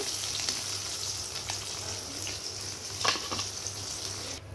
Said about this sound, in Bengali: মাছগুলো উল্টে দিয়েছি, ভাজা হয়ে গেছে